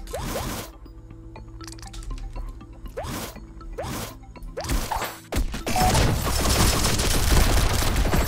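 Gunfire rattles down from above in a dungeon-crawler shooter, with sharp repeated shots and impacts in bursts, then a sustained dense barrage and crashing noise in the last few seconds.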